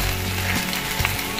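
Garlic sizzles and crackles steadily in a hot pan, with faint stirring sounds underneath.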